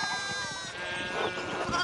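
Sheep bleat in the medieval-set video game Pentiment, a few wavering calls layered over a steady background music bed, fairly close and moderately loud.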